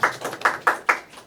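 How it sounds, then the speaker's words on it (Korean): A small group claps on a Korean talk-show set, several separate hand claps in quick rhythm over about a second, close and moderately loud, with no talking. "박수 한번 주세요."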